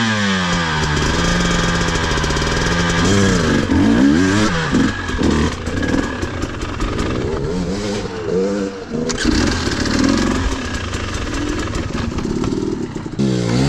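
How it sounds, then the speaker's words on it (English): A Husqvarna TE300 dirt bike engine revs up and down repeatedly, loud and close, its pitch climbing and falling over a steady idle throughout. "That's a torquey motor, man. You can hear it."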